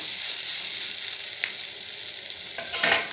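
Food fries gently on a low flame while being stirred: a continuous close sizzle with soft scraping strokes, growing louder and busier near the end.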